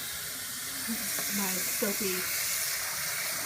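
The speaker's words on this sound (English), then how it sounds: "pan and just fill that up with water and put that in" Tap water runs steadily into a pan at a kitchen sink, a continuous close hiss that carries on beneath a few spoken words.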